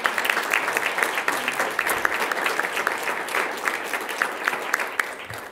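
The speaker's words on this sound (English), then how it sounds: "give them a big round of applause for all that they do" Audience applause at a school governing board meeting, a sustained patter of many hands clapping at a moderate distance with no talk over it.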